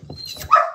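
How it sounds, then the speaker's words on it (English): A single short bark from a dog outdoors, fairly loud and close, with a whimpery rise at the end and no talking. "That silly dog heard a chicken laying an egg."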